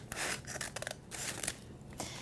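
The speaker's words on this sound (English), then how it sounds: "Emerson, can you cut off this bag? It's a pretty big scissors." Large scissors cutting the top off a brown paper bag, a series of close, crisp snips and papery crunches in uneven bursts with short pauses between.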